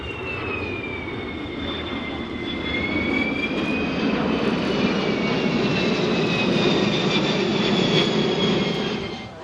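A propeller airplane drones loudly overhead at a military airbase airshow, its engine pitch sliding slowly as it passes, swelling a little louder toward the end amid open-air crowd background noise.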